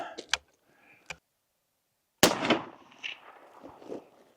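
A Fraser side-lever falling block rifle in 450-300 fires at a zebra about 200 yards away outdoors, a single sharp loud report with a lingering rumble, preceded by a few faint clicks.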